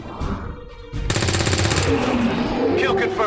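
Rapid automatic gunfire in a video game, a dense burst of shots starting about a second in and continuing to the end, with a voice talking at the start.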